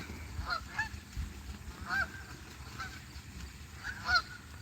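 A group of geese honk in repeated short calls, a few seconds apart, moderately near and fairly clear over a faint outdoor background.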